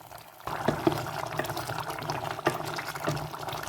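A thick curry of chilies, tomato and potato bubbles and simmers in a pot, a continuous gurgling boil with a couple of louder pops and clinks.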